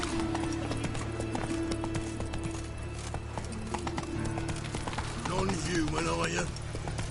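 Horse hooves clip-clopping steadily at a gallop in The Witcher 3, with a brief neigh near the end, carrying on continuously under game music and ambience.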